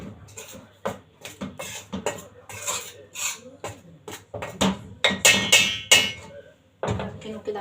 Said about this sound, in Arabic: هنجيب بقى معلقه كده عشان نقلبهم مع بعض كده ونركنه على جنب